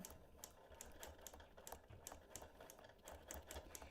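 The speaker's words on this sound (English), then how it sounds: "I'm going to endeavor to stitch slowly around this buckle and not bump it." A sewing machine stitches slowly around a buckle on a custom quilt, its needle making fast, even rhythmic clatter close up, with brief pauses and no talking.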